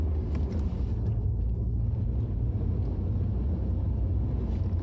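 Peugeot 308 T9 with a 1.6 HDI 120 HP DV6FC diesel engine driving in fourth gear, a steady low engine and road rumble inside the car, continuous and even with no talk.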